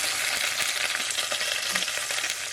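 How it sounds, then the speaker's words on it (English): Meat sizzling and crackling loudly in hot oil in a hot pan, a steady dense frying hiss with popping spatters throughout, close up with no voices. "And then put your meat in so it doesn't stick."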